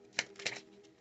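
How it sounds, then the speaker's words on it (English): A stiff, brand-new tarot card deck is shuffled, giving two quick papery riffles followed by a fainter flutter, close and quiet with no voice over it. "it's kind of difficult to shuffle this deck because they're still like really stiff and new"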